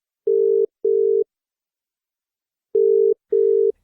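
A telephone line sounds two pairs of steady electronic tones separated by a silent gap, loud and clear with nothing else heard.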